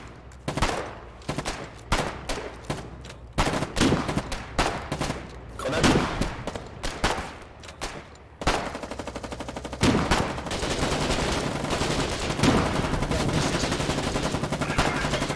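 Gunfire in the video game Foxhole: a run of sharp, rapid shots and bursts, then continuous dense automatic fire that carries loud and unbroken to the end.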